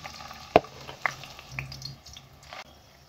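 Onion paste hitting hot oil in a pan, giving a sharp sizzling burst followed by softer crackles and drips, close and fairly quiet with no talk.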